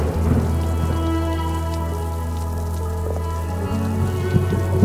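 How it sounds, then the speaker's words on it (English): Steady heavy rain pours onto a surface, with low rumbling thunder rolling underneath throughout and a few louder drops or cracks near the end; no voices. "Why won't God stop the rain?"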